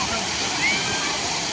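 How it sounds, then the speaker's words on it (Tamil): A waterfall in Anna Park in Salem roars as a loud, steady broadband rush of falling water, constant and close throughout. "இதுதாங்க அந்த வாட்டர் ஃபால்ஸ்."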